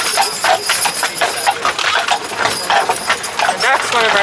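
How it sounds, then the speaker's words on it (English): Doc and Howard, a pair of Percheron draft horses, walk with a steady clip-clop of heavy hooves close by, while a voice talks over the rhythmic footfalls. "Doc and Howard are Percheron draft horses."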